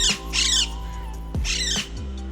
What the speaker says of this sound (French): C'est un perroquet vert.